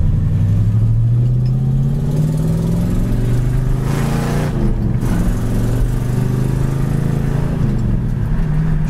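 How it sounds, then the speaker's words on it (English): A 1967 Ford Mustang's 289 V8 runs close and loud, its steady idle swelling into a brief rev around the middle before settling back to a smooth, even rumble. "As far as this little 289, it runs excellent."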